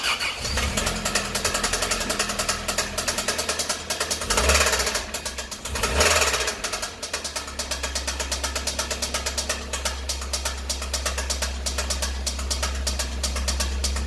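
A car engine runs steadily at idle for the whole stretch, a constant low rumble with a rapid ticking texture and two brief louder surges.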